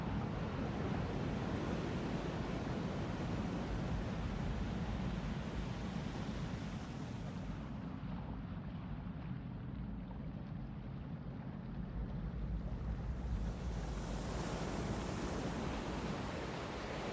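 Steady washing surf and waves fill a track, a continuous broad rushing wash that dips slightly midway before swelling back, with no voices.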